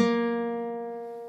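A single low plucked open first string of a baritone guitar rings out clearly, its sustained tone slowly fading with no other sound.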